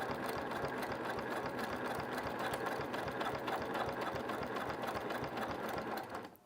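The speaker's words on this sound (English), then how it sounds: "I'm sewing beside it." A sewing machine runs steadily at close range, stitching a fabric postcard beside an appliqué tree, its rapid mechanical chatter unbroken for several seconds before easing off at the very end.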